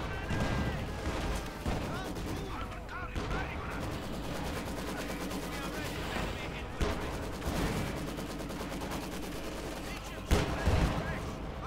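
Rapid machine gun fire from a Maxim team in the Company of Heroes 2 video game rattles steadily through a battle, mixed with other gunshots and booms and a commentator talking over it.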